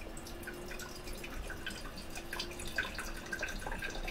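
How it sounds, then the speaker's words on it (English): Vinegar trickles and drips steadily into a container while mixing a vinaigrette dressing, with a continuous close liquid patter and small splashes. "So this is some vinegar, and all I want to do is pour in about 100 mils of this."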